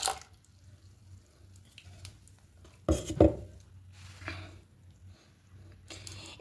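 A bowl of batter mixed with milk and sugar for patishapta: soft, steady stirring with a sharp burst of utensil knocks against the bowl near the middle and a few lighter clinks later, close and fairly quiet.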